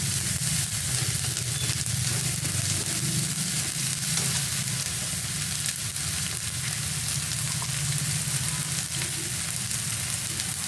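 Tomatoes cooking in a pan produce a loud, dense, continuous sizzle with a low bubbling undertone that holds steady throughout.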